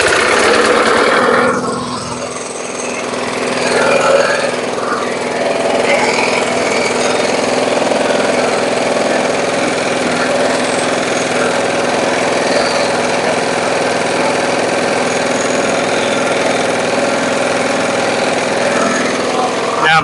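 A Briggs & Stratton lawn mower engine runs continuously and loudly up close, a steady high-pitched chattering drone that stays running throughout.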